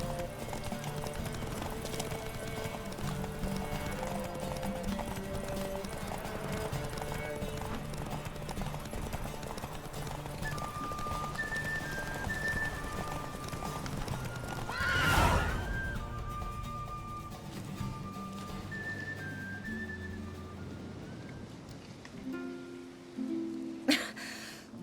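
A horse in The Witcher 3 video game trots with steady clip-clopping hooves over continuous game ambience, then lets out a neigh midway, with faint tonal game sounds around it.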